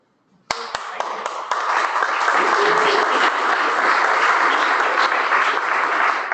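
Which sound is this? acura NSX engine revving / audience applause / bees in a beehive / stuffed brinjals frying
audience applause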